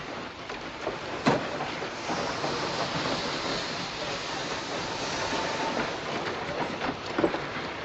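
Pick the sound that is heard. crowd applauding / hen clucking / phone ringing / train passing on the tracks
train passing on the tracks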